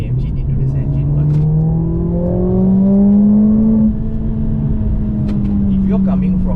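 A Mercedes-AMG CLA45S 4Matic+ with its turbocharged 2-litre engine pulls hard from inside the cabin, the engine note climbing in one long sweep, easing off, then rising again, with talk running over it.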